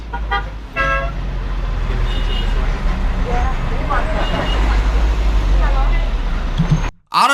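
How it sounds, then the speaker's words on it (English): A moving bus creeps slowly through street traffic, its engine rumbling close by, with horn toots, passing cars and voices talking and shouting over the road noise before a brief sudden cut near the end. "the bus is moving slow"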